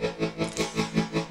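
Guitar chord played through a Seymour Duncan SFX-07 Shape Shifter tap tremolo pedal set to a triangle wave, throbbing in even, steady pulses about five times a second, with the volume swelling and dipping smoothly.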